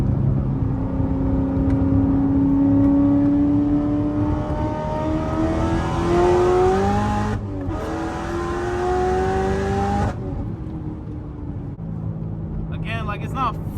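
A manual 800 hp Corvette C7 ZR1 on new 18-inch wheels accelerates hard, its engine note climbing through the revs before a brief break at the gear change, then pulling up again, loud and close with a voice talking over it.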